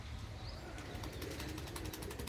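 Pigeons at a rooftop loft fitted with cages, heard as a steady low rumble of soft cooing with bursts of rhythmic wing flapping midway through, fairly close and continuous, with no voices.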